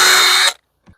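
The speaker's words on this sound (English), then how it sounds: "A couple pilot holes," A power drill bores a pilot hole into a wooden board, a loud steady whine for half a second that cuts off abruptly, followed by a faint short knock.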